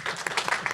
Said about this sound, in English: So, Lee Rainey, please clap.